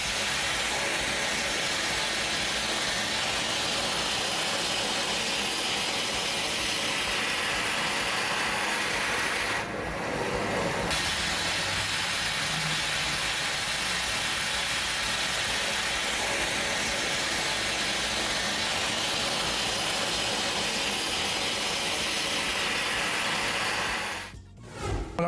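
A rolling mill laminates a freshly cast gold and copper alloy in a goldsmith's workshop, giving a steady continuous mechanical hum and whir throughout, with a brief drop near the middle and a sharp clatter at the very end.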